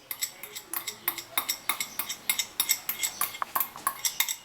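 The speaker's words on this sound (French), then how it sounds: "je mélange bien avec le petit fouet" A small whisk mixing solid shampoo ingredients with broccoli oil in a bowl, giving quick rhythmic metallic clinks and scrapes that repeat steadily throughout, close and moderately loud.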